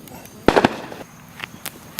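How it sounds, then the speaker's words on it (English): A homemade firework of burning steel wool goes off with a sharp crackling burst, followed by a few fainter pops and snaps nearby. "Basically, it's just burning steel wool."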